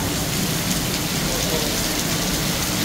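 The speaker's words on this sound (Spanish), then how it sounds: "está cayendo un vergazo de agua" Heavy rain pours down steadily and loudly during a storm in a neighborhood of El Salvador, a dense unbroken roar of water with no break or voices.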